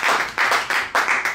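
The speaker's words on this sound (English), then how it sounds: "Have a round of applause." A few people clap together at a live podcast show, giving short bursts of applause in uneven waves, close and moderately loud, with no talking.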